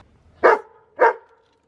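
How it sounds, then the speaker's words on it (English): A dog lets out two short, sharp barks about half a second apart, close and loud, with quiet in between and afterward. "Whenever I'm talking to the camera, he does like little barks."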